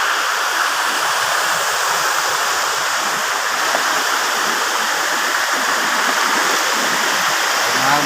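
Malingin Falls in Bohol pours with a loud, constant roar of cascading water that holds level throughout, close by and with no talking.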